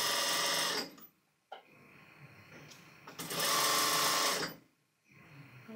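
A sewing machine runs a straight stitch along a cushion seam in two sustained bursts, a steady whirring buzz near and loud, with short pauses between runs and at the end.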